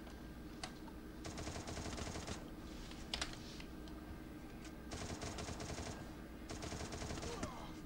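Bursts of automatic gunfire in the battle royale game Free Fire, rapid crackling volleys repeating in clusters over a steady background hum, with a few sharper single shots in between.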